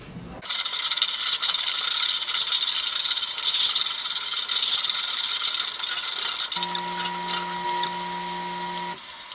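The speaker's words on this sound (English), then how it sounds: "I'll take a wire brush, maybe some sandpaper over it just to get the roughness off" A wire brush scrubs the metal body of a vintage Radio Flyer wagon, a steady, close and loud rasping that runs without pause for most of the stretch. There is no talk.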